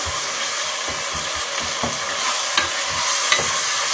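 Tomatoes and pilchards being stirred in a sizzling pan for makusa matembele, a steady close frying hiss with soft scraping strokes of a utensil at an irregular rhythm, no talking.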